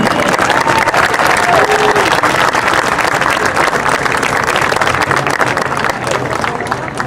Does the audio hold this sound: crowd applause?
yes